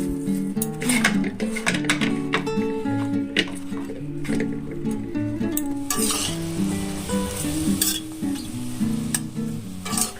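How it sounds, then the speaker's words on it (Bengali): Eggplant pieces coated in salt and turmeric fry in hot oil in a kadai for a Bengali thor ghonto (banana stem) dish, giving a continuous close sizzle with frequent stirring scrapes and clinks of a utensil against the pan. "এবার বেগুনটা আমি ভেজে নেব"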